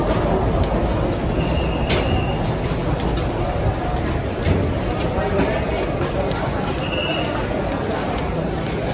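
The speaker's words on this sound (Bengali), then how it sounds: "ট্রেনটা এখন আসেনি, জাস্ট আসছে, 5 নম্বর প্ল্যাটফর্মে দেবে" An Intercity superfast train rolls into platform 5 of a busy station, its steady rumble and rattle filling the air with a couple of faint wheel squeals, while voices murmur in the crowded background.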